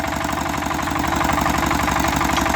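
An old Chinese HT 135E tractor engine puffs and chugs while running, a loud, close, rapid rhythmic knocking that holds steady throughout, with no talking.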